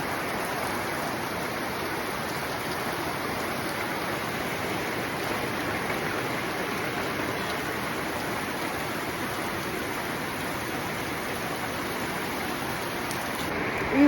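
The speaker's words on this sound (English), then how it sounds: "who said the rain was over for the summer? It is absolutely pouring down." Heavy rain pours down steadily in an off-grid rural setting, a dense, continuous roar of drops that stays loud and even from start to finish with no voices.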